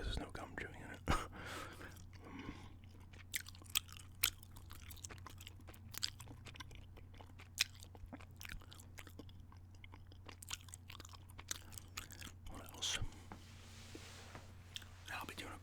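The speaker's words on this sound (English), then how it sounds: "I just kind of end up doing gum chewing a decent amount now" Gum chewing close to the microphone in a whispered ASMR ramble, with soft wet smacks and clicks scattered throughout under quiet whispering.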